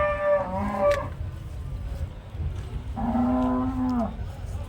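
Cattle moo twice at a Punganur cattle market, one low call early and another longer, deeper moo a couple of seconds later, over a steady outdoor murmur.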